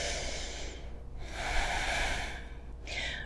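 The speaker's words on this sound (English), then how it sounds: "Take a deep breath." Deep breathing in a centering yoga session: a long hissing inhale, a brief pause, then a longer airy exhale and the start of another breath, close to the microphone and steady, with no talking.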